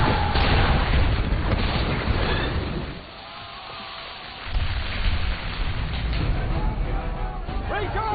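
Dense, rumbling booms roll out continuously, with a brief lull before another heavy barrage of naval cannon fire from sailing warships in a 1666 sea battle reenactment; shouted Russian commands sound faintly beneath.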